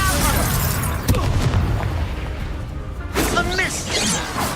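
Confringo fire-blast spell erupting in a modded Hogwarts Legacy battle, a heavy booming burst followed by crackling debris and a second blast, with a voice talking over the combat.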